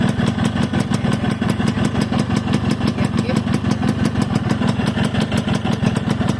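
A Yamaha RXS115 motorcycle engine runs close up at a steady idle, a loud, even, rapid two-stroke putter that holds the same rhythm throughout with no talking.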